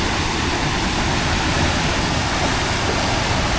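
Floodwater rushes and pours down in Noveleta, Cavite during Typhoon Crising, a loud, constant roaring wash of water close by that fills the whole moment with no talking.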